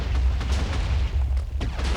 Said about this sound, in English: Is this going to be the Goldilocks explosion?